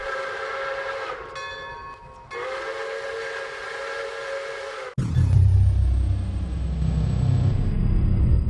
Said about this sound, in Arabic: يزمجر القطار مطلقا صفاراته ترحيبا وابتهاجا بوصول راكبيه